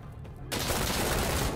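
Gunfire in the video game Insurgency: Sandstorm, starting after a brief quiet lead-in as a loud, dense burst of rapid automatic shots.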